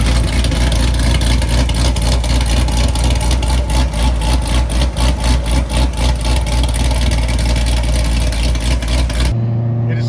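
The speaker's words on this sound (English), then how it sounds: "Some cars you can tell have a cam or something in it, and then you hear this thing chopping like that" A cammed Stage 4 Corvette C7 Z06 of over 900 rear-wheel horsepower idles loud and close with its exhaust open, a rough, lumpy chop pulsing steadily for about nine seconds before cutting off abruptly.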